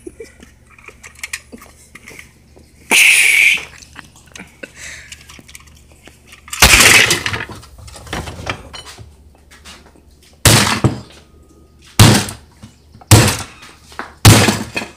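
A modded Nerf blaster being test-fired indoors, giving a string of sharp, hard thunks, two spaced apart early on, then four coming quicker toward the end, over quiet background noise.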